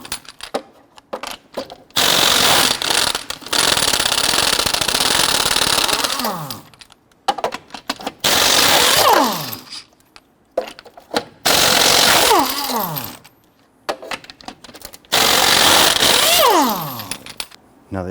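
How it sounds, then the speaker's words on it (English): Pneumatic impact wrench with a 22mm socket loosening and spinning off lug nuts on a 2006-2014 Honda Ridgeline, loud close whirring bursts in four separate runs of two to three seconds each, with quieter clicks between them. "Using a 22mm socket, you want to go ahead and loosen and remove your lug nuts."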